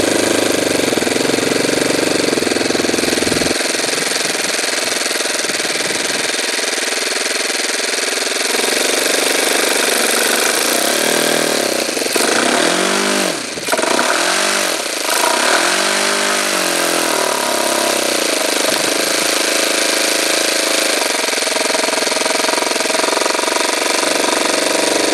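A Saito twin-cylinder model aircraft engine runs loud and steady, spitting and sputtering from its carburetor, with a rough wavering patch partway through before it settles back to a constant harsh drone.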